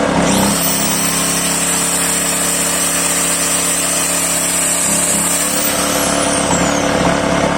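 A 1.1 kW angle grinder spins up and runs continuously under power from a Voin DV 1500i inverter generator, giving a loud, steady high whine over a constant engine drone for several seconds.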